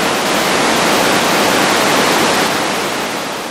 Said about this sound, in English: If we just get white noise, just a burst of white noise.